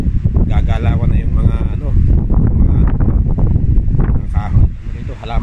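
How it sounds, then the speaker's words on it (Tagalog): Strong cyclone wind buffets a cellphone microphone in heavy, rumbling gusts, with a voice talking over it throughout. "maririnig nyo yung buhos o yung bugso ng hangin dito sa cellphone"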